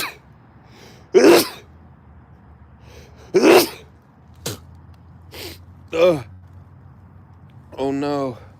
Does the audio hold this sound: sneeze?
yes